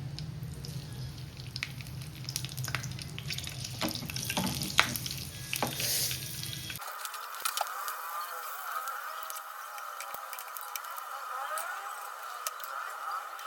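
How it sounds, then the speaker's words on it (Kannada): Green chillies sizzle and crackle in hot oil in a pan, a busy close frying hiss with stirring clicks that abruptly shifts to a thinner, steadier sizzle halfway through, with no talk. "ಒಂದು ಪ್ಯಾನ್ನಲ್ಲಿ ಒಂದು ಸ್ವಲ್ಪ ಆಯಿಲ್ ಹಾಕ್ಕೊಂಡು, ಓಕೆ, ಒಂಚೂರು ಆಯಿಲ್ ಕಾದ್ಬಿಡ್ಲಿ. ಕಾದಾದ್ಮೇಲೆ ಹಿಂಗೆ ಹಾಕಿ."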